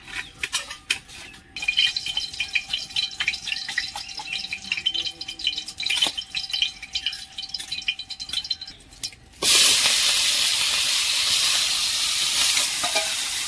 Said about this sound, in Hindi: चिंगुड़ी सब पड़गला कढ़ारे गरम गरम तेल रे चिंगुड़ी पड़गला